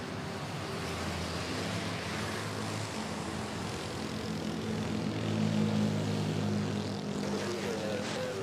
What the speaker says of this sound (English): Nice smooth takeoff by the Cebu Pacific.